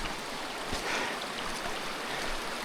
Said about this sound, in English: That is an awesome waterfall.